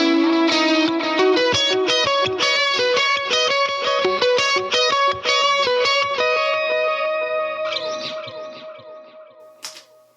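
An electric guitar on its bridge pickup plays a quick run of distorted, chorused notes through a Line 6 Helix effects rig, then trails off into fading reverb and echo.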